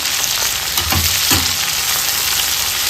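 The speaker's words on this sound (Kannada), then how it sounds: "ಒಂದು ಟೊಮೆಟೊನ ಹಾಕೊಳ್ತಾ ಇದ್ದೀನಿ. ಒಂದು 2 ನಿಮಿಷ ಫ್ರೈ ಮಾಡ್ಕೊಳ್ಳೋಣ." Tomato frying in hot oil for an egg curry gives a dense, loud, close hiss of sizzling, with a couple of brief stirring scrapes and no voices.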